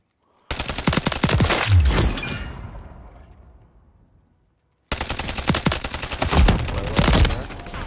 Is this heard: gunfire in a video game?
yes